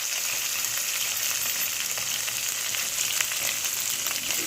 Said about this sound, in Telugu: ఉల్లిపాయలు వేసేసుకుని బాగా ఫ్రై చేయాలి